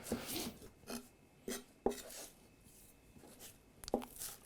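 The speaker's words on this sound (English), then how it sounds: "now we're gonna chop the chives and the basil" A sharp knife chops chives and basil on a cutting board, producing soft, irregular taps and scrapes at close range that are fairly quiet, with a few crisper strikes and no talking.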